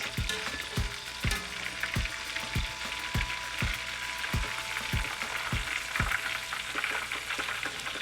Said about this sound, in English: Frying up that fish